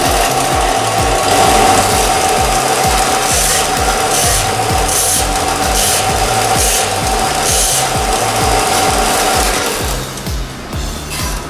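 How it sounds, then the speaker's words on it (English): A Harbor Freight Central Machinery belt and disc sander works on wood, its motor droning loudly and steadily up close with a rasping abrasive scrape over it, then easing off near the end. "This Central Machinery disc sander works great"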